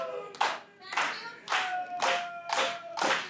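A wrestling crowd claps in unison during a match, with about six loud, evenly spaced waves of applause repeating roughly every half second.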